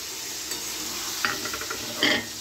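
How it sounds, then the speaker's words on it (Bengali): Chicken pieces fry in an oily spice masala for a Bihari-style chicken curry, a steady close sizzle with intermittent stirring scrapes of a spatula against the pan. "এবার আমি চিকেনটা দিয়ে একটু কষে নেব।"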